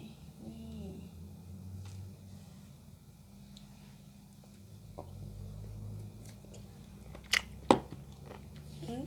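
Fresh apple snails being bitten and chewed, with soft wet chewing through most of the stretch and two sharp, crisp crunches near the end, close to the microphone.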